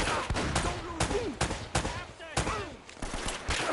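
Pistol gunfire in Uncharted: Drake's Fortune, a series of loud sharp shots spaced irregularly across the span, with ringing tails and some faint voice underneath.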